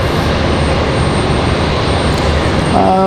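A fixed-wing airliner decelerates on the runway at Raleigh-Durham International Airport, a loud, steady engine roar with broadband rushing that holds throughout, heard from the spotting area.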